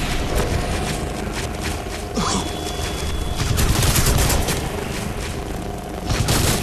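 Dense, continuous gunfire and booming blasts from the video game Crysis 2, a weapon firing in rapid bursts amid loud battle noise.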